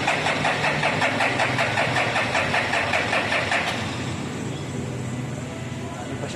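A Toyota Innova engine, after EGR cleaning, cranks and catches with rapid, rhythmic chugging, then settles into a steadier, quieter idle.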